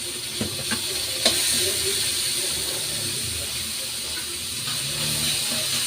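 Onions and garlic sauté in a pan for a mung bean stew with a continuous close sizzle and hiss. A few faint clicks of stirring break in early on.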